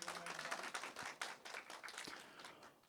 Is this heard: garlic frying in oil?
no